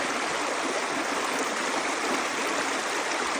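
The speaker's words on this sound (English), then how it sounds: "So this is the outlet of the Ball Mountain Pond. This is the stream." A stream flowing at the Bald Mountain Pond outlet, a steady broadband rush of water heard close and unbroken, with no voices.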